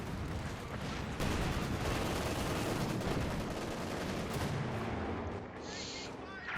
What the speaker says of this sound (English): Mortar half-track firing down there.